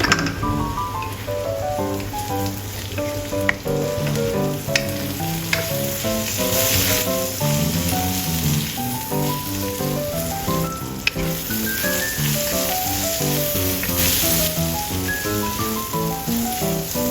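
Salted cabbage frying slowly in a pan, giving a steady soft sizzle and crackle with faint stirring under melodic background music.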